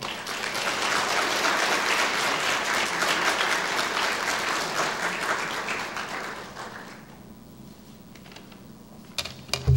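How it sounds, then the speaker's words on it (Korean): A church congregation claps steadily to welcome a missionary at a Sunday service, a broad wash of applause that holds for about seven seconds before thinning into a few scattered claps. "우리 선교사님 나오실 때 우리 환영의 박수를 환영합니다"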